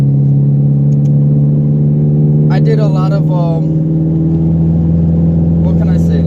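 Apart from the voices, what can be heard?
turbocharged Honda Integra car driving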